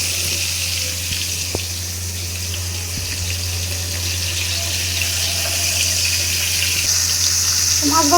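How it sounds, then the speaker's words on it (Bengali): Fish sizzles steadily in a pan on a stove, a continuous loud crackling hiss with a low hum underneath and a couple of faint clicks. "মাছ ভাজাটা চুলায় তো দিয়ে দিলাম।"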